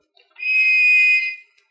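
A small brass whistle blown once in a steady, clear, shrill tone lasting about a second, close and alone.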